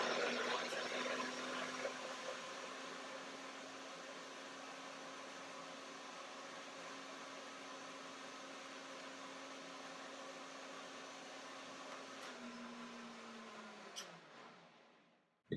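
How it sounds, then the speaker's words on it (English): A blender blending avocado and cashews runs with a steady whirring motor drone and a whooshing hiss, holding constant before slowing and winding down to a stop near the end. "and now the blender dance"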